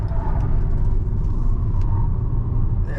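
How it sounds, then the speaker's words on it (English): A BYD Dolphin Premium 150kW electric car driving at speed around a corner with wheel spin, heard from inside as a loud, steady low road rumble and tyre noise with no voices. "lots of wheel spin happening"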